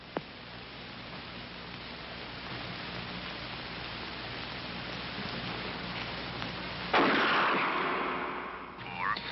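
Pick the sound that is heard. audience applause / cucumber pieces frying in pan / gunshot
gunshot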